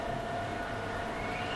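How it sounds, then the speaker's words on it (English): Big Dipper roller coaster carriage at Blackpool Pleasure Beach, a steady, continuous rumbling roar of wheels on track heard from a distance, with a faint sustained whine running through it. "That sounds like a carriage on the Big Dipper"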